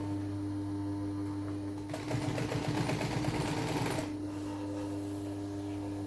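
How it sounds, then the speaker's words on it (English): A sewing machine stitches sofa cushions during reupholstery, a fast rattling run of about two seconds over a steady low hum, close and clear. "for more durable finish, I'm going to sew them"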